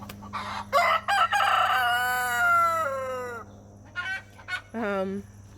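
A large heritage-breed rooster crows loudly nearby in one long drawn-out call, followed by a shorter squawk and a brief second crow against a low steady hum.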